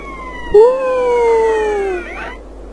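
An ambulance siren in GTA San Andreas gives a single loud, close wail that rises briefly, then slides slowly downward and cuts off after about two seconds.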